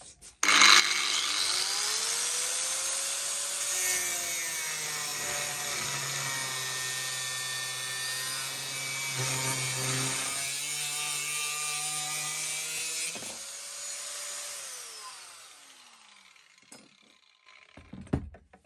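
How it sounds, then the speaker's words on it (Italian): A 125 mm TILSWALL angle grinder cuts through 2.5 mm thick steel angle, starting at the thicker corner: a loud, continuous high-pitched grinding whine lasting about fifteen seconds, shifting in pitch as the disc bites, then spinning down. "Adesso tagliamo pure questo angolare che ha uno spessore di 2 mm e mezzo partendo dall'angolo dove ovviamente è più spesso"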